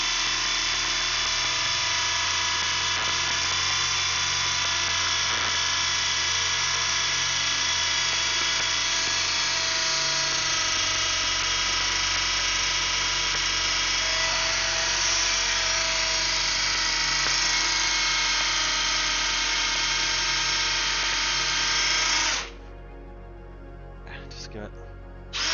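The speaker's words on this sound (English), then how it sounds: "this is an attachment to the drill that gives me like a nice little like short 90-degree" Power drill fitted with a short 90-degree right-angle attachment, used in an aircraft hangar on flap linkages, whines loudly and steadily for about twenty seconds before cutting off, leaving faint clatter behind.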